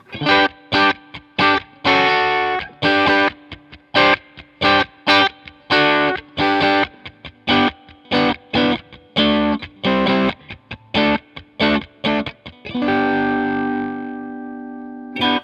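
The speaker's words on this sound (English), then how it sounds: "low gain overdrive with the density somewhere in the middle and diodes pretty low" Electric guitar through a Catalinbread Karma Suture low-gain overdrive pedal, neck and bridge pickups, plays chopped, rhythmic chords in short bursts, ending on a sustained ringing chord; no voices.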